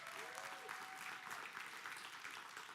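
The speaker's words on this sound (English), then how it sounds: "Give them a round of applause." Steady applause from a church congregation at a Sunday foster family service, dense continuous clapping throughout with a faint tone briefly over it.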